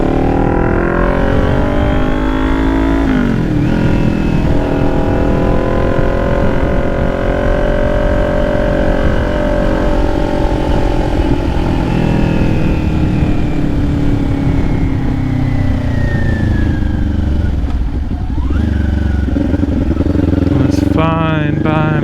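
A Kawasaki Ninja 400 motorcycle rides on a hot day, its engine loud and close with a continuous drone that rises and falls in pitch through gear changes and throttle swells, with wind rush underneath.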